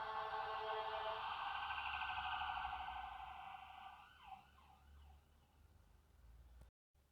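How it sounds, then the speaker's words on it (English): Emergency vehicle sirens wail loudly and close, then fade as they pass into the distance, with a brief dropout near the end. "Everybody like the death sirens there?"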